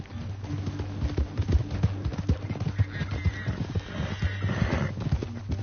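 Horses gallop along a canyon trail, hooves clip-clopping in a fast, dense rhythm, loud and close, with a horse neighing midway and faint voices calling out.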